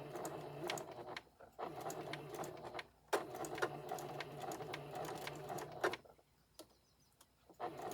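A sewing machine back stitches a memory bear in several quiet bursts of rapid mechanical ticking, separated by brief pauses, close but low in level.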